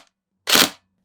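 A Tokyo Marui NGRS MP5 airsoft gun fires one quick three-round burst, a short, sharp, close rattle heard alone in silence.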